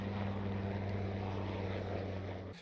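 A KAI Surion helicopter, the Korean-built model adapted as a Marine amphibious assault helicopter, drones with a loud, steady, close rotor-and-engine hum that holds evenly before cutting off abruptly just before the end.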